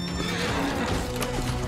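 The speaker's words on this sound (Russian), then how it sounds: "Нет, слишком много лошадеристов." Horses neigh and whinny amid clip-clopping hooves in a medieval melee battle in the video game Mordhau, loud and continuous throughout with overlapping battle noise.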